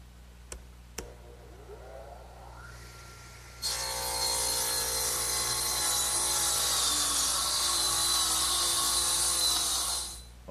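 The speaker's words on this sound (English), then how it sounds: "I think I'll use my radial arm." A radial arm saw spins up and trims wood in a workshop, a loud sustained high whine and cutting roar lasting about six seconds after a couple of sharp clicks, then winding down, close with no talking.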